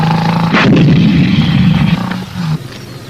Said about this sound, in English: The tanks give covering fire.